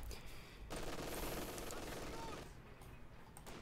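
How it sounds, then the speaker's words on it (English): Burst of MG42 machine gun fire in the Company of Heroes 2 game, a sustained rattling volley lasting a couple of seconds amid other battle noise, with a commentator talking over it. "G42 will be firing into the center."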